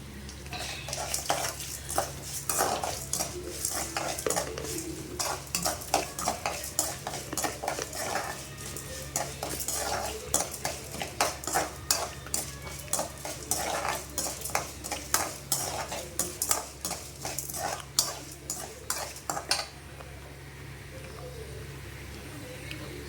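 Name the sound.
cashew nuts being roasted and stirred in a pan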